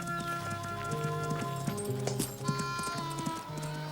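A cartoon horse's hooves clip-clop on a hard surface as it runs off, irregular and moving, mixed with tonal background music and scattered noises.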